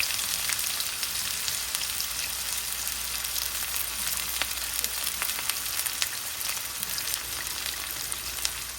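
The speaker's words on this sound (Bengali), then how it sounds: "পেঁয়াজটা মোটামুটি ভাজা হয়েছে" Chopped onions frying in soybean oil for a chickpea dish, a steady dense sizzle that stays even and close throughout, with faint crackles and occasional soft stirring scrapes, no voices.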